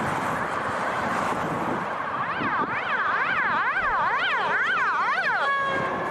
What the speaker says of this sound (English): That was a weird siren.